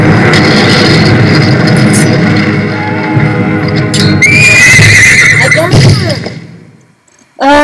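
A horse in a video game neighs loudly, a shrill rising whinny over a busy game soundscape of rumbling and hoofbeats, with a voice speaking before the sound fades to near silence.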